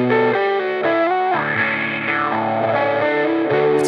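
An electric guitar played through a noise pedal at extreme settings with boosted low mids, a thick distorted, resonant tone sustaining chords and a sliding note, loud and up close with no talking.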